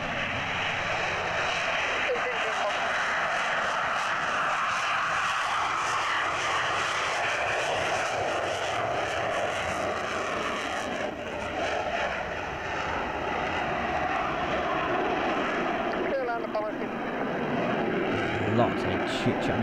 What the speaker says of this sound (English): Let's hear the sound of the takeoff.